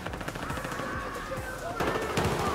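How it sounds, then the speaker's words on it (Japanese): Rapid automatic gunfire in Battlefield 4 team deathmatch on the Locker map, a burst of close, sharp shots in quick succession with more firing nearby. "銃声が近いよ。"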